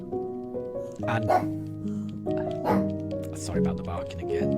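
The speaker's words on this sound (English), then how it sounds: "sorry about the barking again." A dog named Daruk gives a few short barks and yips in a room, sounding over steady harmonic game music, moderately close, with no clear talk alongside.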